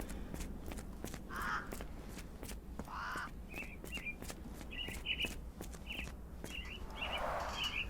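Caged mynah birds in Sherlock Holmes The Awakened give a series of short chirps and whistled calls, repeated at irregular intervals, with footsteps and a soft ambient bed underneath.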